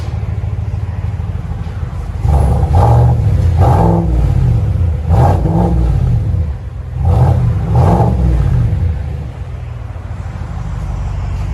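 A GMC AT4 truck with a 6.2L V8 and aftermarket exhaust revs hard in four or five loud throttle blips, deep rumbling bursts that rise and fall over a steady idle.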